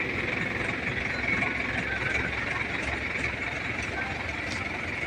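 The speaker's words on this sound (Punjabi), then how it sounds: "ਮੋਟਰ ਚੱਲ ਪਈ ਆਪਣੀ" A farm water pump's electric motor, recently repaired after burning out, runs with a steady, loud, continuous hum and rumble that holds even throughout.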